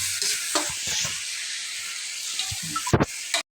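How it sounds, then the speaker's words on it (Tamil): Curry leaves and chili powder sizzle and crackle in a hot pan, a steady close frying hiss broken by a few stirring scrapes near the end, with no voices. "கருவேப்பிலையையும் போட்டு நாங்கள் வதக்குவோம்"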